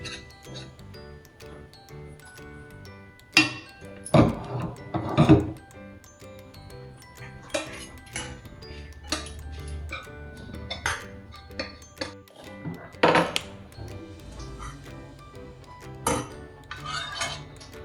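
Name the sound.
stirring dry date powder mixture in a pan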